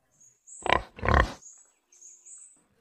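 A pig lets out two loud, close grunts in quick succession, followed by a pair of softer, higher squeaky snorts.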